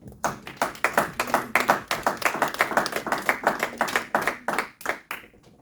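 A church congregation claps in a steady, rapid patter of many hands that keeps going for several seconds, then thins out and fades. No one speaks.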